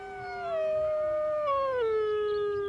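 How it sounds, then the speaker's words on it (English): Sustained, loud howling from canines in a barren landscape outdoors, several voices gliding downward in pitch and overlapping like a chorus, continuous for the whole stretch. "Outside, howling can be heard."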